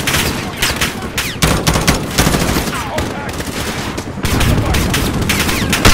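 Rapid, dense shotgun fire from a Call of Duty: Modern Warfare campaign battle, loud blasts stacking into a continuous fusillade with brief dips and renewed bursts throughout.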